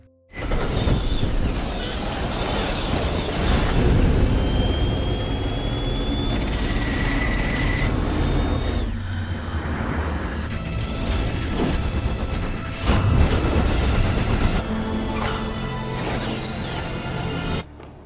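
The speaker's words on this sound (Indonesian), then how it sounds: "Agent 47 malah menyalakan sebuah kipas besar yang bisa merenggut nyawa milik Katia" A large fan whirs in a scene from the Hitman: Agent 47 film, a loud steady roar of spinning blades with mechanical rumble, whining tones and occasional heavy booms over about eighteen seconds, no voices.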